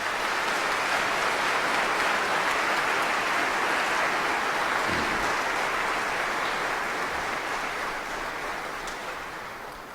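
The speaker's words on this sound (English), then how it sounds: "Please give these exceptional soldiers a round of applause." Audience applause at a military basic training graduation ceremony, a broad steady roar of many hands clapping in a large venue, sustained for several seconds before slowly tapering off.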